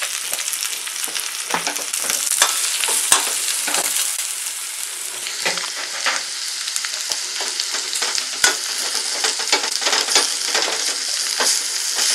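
Ingredients for Tirunelveli paruppu urundai kulambu sauté in hot oil with dried chillies and fennel, producing a loud, dense hiss and crackle close up, punctuated by brisk stirring scrapes throughout.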